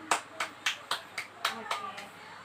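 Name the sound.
classroom children clapping for their groups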